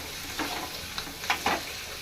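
Curry leaves and onions fry gently in a pan for a stuffed brinjal masala, a soft continuous sizzle broken by a few quick stirring scrapes.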